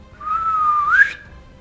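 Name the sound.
whistle imitated by voice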